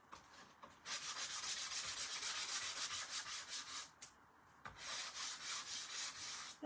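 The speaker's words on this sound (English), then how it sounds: "now I have pink all over my sander" A power sander works over a painted wooden wreath in a steady, close rasping buzz, pulsing in short strokes with a brief pause partway through.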